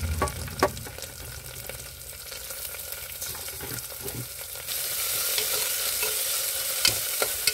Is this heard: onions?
yes